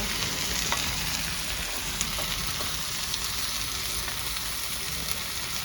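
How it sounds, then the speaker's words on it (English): Chayote cooking down in a pan over an outdoor fireplace gives a steady, close, even sizzle and frying hiss with a few faint ticks, and no one speaks. "I'm gonna cook down some chayote."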